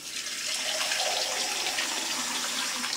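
Warm milk, heated for homemade yoghurt, is poured into a jug as a continuous, splashy rush of liquid lasting a few seconds, moderately quiet and close.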